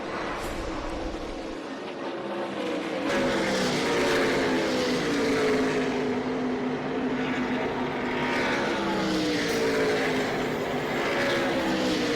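Off-road racing trucks in a race at Texas roar in a continuous loud engine drone with rising and falling pitch as they pass, a sustained mechanical howl throughout with no talk.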